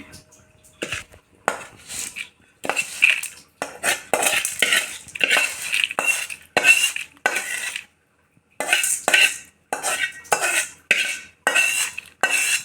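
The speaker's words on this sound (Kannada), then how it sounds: "ಈಗ ಒಗ್ಗರಣೆನ ಇದಕ್ಕೆ ಆ್ಯಡ್ ಮಾಡೋಣ" A metal spoon stirs tempering into curd rice in a steel bowl, scraping and clinking in repeated bursts of strokes with short pauses, loud and close, with no talking.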